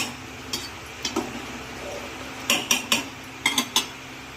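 A metal pot lid is handled while khichuri cooks, several sharp clinks and knocks in small clusters, close and moderately loud over a low background, with no voices.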